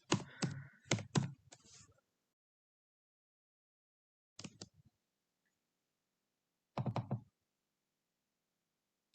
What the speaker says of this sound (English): So with basic numbers, it's simply typing